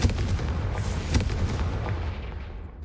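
A Confringo fire-blast spell from a wizarding video game, a loud, booming explosion with a deep rumble and crackling bursts, sustained for a few seconds before fading.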